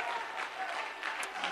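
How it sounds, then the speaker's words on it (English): A church congregation clapping their hands together, a steady wash of applause throughout a short moment, with a preacher's voice faintly present. "clap your hands unto him and shout unto God with a voice of triumph"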